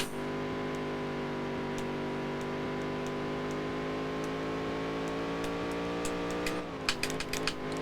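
Race car engine droning at steady high revs during a lap in the racing game Dirt to Daytona, a continuous buzzing whine with faint clicks and a brief shift near the end.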